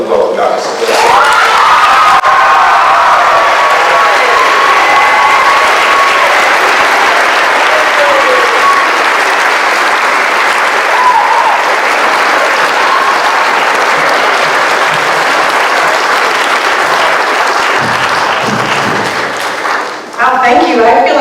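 Loud, sustained applause from a symposium audience fills the space for about twenty seconds, dense and steady with some cheering mixed in, then tapers off near the end.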